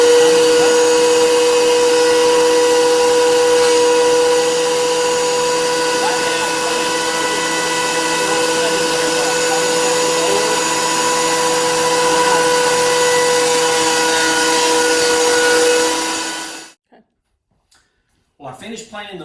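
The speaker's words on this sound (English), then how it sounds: "I ran it through the planer about 10 more times" A thickness planer runs a wooden board through in a woodshop, a loud continuous whining motor roar with tonal hum that holds steady for about sixteen seconds before winding down to near silence.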